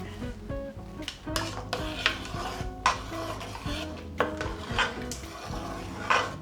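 A lamb curry being stirred in a pan after coriander is added, with a utensil scraping and knocking against the pan in irregular strokes over a soft sizzle, close and moderately loud.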